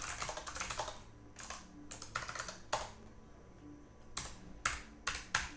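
Keys clack on a computer keyboard during X11 window programming, a few separate close presses in a sparse, uneven rhythm with quiet gaps between them and no speech.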